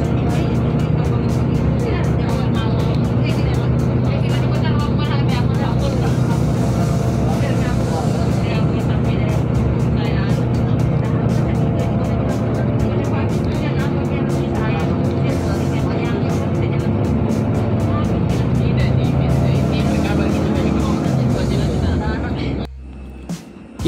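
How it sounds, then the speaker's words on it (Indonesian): Steady engine rumble of an airport bus driving to a parked plane, with people talking inside over the continuous drone until it cuts off near the end. "sekarang kita sudah ada dalam bus menuju pesawat yang diparkir."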